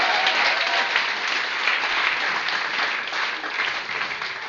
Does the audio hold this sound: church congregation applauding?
yes